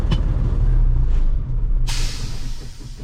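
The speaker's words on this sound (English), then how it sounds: "Got all the brakes set." A truck's diesel engine idles with a low rumble, then a sharp hiss of air brakes being set releases pressure, bursting out and trailing off.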